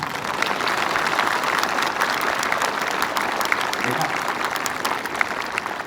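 Sustained, dense applause from a large crowd at a school Republic Day celebration, loud continuous clapping throughout with no break.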